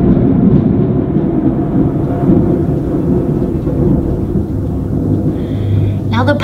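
Loud thunder rolls continuously through a thunderstorm, a deep sustained rumble with rain noise, filling the whole stretch with little letup; faint electrical buzzing appears near the end.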